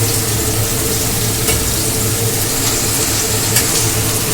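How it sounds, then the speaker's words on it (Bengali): Chopped onion frying in very hot oil left over from frying fish, a dense, even sizzle heard up close, loud and without pause. "এই কুচনো পেঁয়াজটা কিন্তু এই তেলের মধ্যে দিয়ে দেব।"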